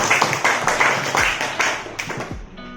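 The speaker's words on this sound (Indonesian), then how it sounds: "Oke, tepuk tangan dulu." A small group claps in a brief burst, a few uneven hand claps over a couple of seconds before fading.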